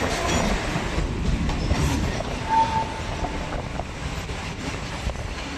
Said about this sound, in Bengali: কিন্তু এই ট্রেনটা ঢুকছে প্রায় 1 ঘন্টার উপরে দেরিতে